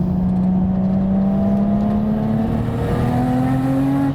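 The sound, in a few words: turbocharged Nissan Skyline GT-R engine accelerating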